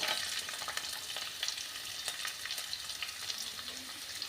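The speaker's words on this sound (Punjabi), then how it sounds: "ਲੰਬੇ ਲੰਬੇ ਜਿਹੜੇ ਆਪਾਂ ਨੇ ਪਿਆਜ਼ ਕੱਟੇ ਨੇ ਉਹ ਐਡ ਕਰ ਦਾਂਗੇ" Long-sliced onions sizzling after going into a hot pan for a chilli chutney, a continuous close frying hiss broken by light stirring clicks, with no talking.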